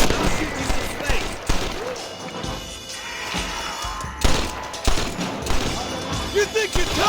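Gunfire in the Red Dead Redemption video game, several sharp shots and thuds spread across the moment, with in-game character voices talking over the shooting.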